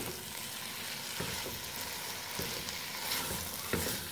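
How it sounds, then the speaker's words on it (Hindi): Minced keema frying with onions in a pan gives a steady, dense sizzle throughout, with a few soft scraping stirs breaking through. "थोड़ा सा फ्राई करेंगे प्याजों के साथ जैसे ही कीमे का थोड़ा सा कलर चेंज हो जाएगा"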